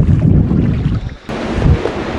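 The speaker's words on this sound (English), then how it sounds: "the ridiculous wind that is in Iceland" Strong, cold wind buffets the microphone outdoors beside a hot spring in Iceland, roaring in loud, uneven gusts with a brief lull midway.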